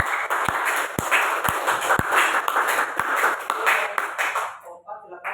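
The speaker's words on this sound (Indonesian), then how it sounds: "Oke, beri tepuk tangan." Classroom of students applauding a group presentation, with strong irregular hand claps over a busy wash of clapping and chatter, fading near the end.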